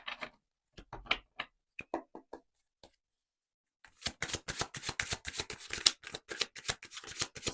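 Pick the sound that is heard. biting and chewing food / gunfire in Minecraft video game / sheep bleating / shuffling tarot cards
shuffling tarot cards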